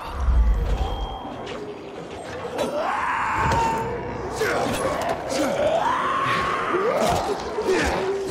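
Infected in the Dying Light 2 co-op game squeal and wail, rising and falling screeches over the game's noise, with players talking in the mix.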